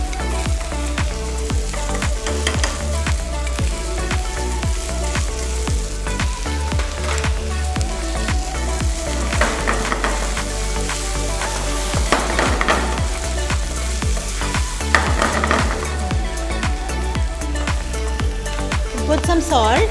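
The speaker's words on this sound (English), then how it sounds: "We'll put some ghee for flavor." Ghee sizzles and fries in a hot pan while fruit pulao is cooked, a steady crackling hiss that runs the whole time with sharp spattering pops and light stirring clatter, close and fairly loud.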